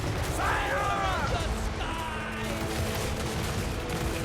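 Gunpowder troops fire a volley in the fantasy strategy game Total War: Warhammer 3, a burst of crackling shots and battle noise under shouted voices.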